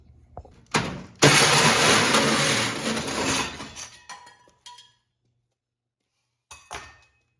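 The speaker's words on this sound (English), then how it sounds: "the saw did jump once, but there is a hole now" A loud, harsh saw grinding a hole through metal on a 1968 Camaro drag car for about three seconds, tapering into a few short bursts, then silence before one brief final cut.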